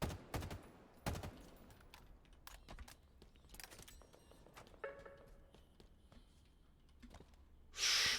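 Halo Infinite assault rifle fire comes in quick rattling bursts, loud at the start and then thinner and intermittent, mixed with clicks and game effects, ending in a loud burst of noise.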